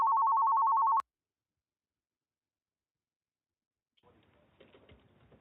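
An incoming telephone call rings once as a loud, pulsing electronic tone lasting about a second, then cuts to silence before a faint voice starts up in the background.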